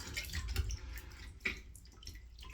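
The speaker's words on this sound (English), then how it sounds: "Just go ahead and dump it in the water" A CPAP humidifier part dropped into a sink of water for cleaning, giving close splashes and drips with a small plop partway through, quiet and short.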